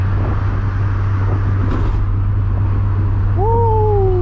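Mazda Miata sports car cruising on back roads with the windows down gives a steady low engine drone and wind rush, with a brief rising whistle-like tone near the end and no talk.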